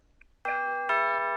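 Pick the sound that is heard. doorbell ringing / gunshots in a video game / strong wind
doorbell ringing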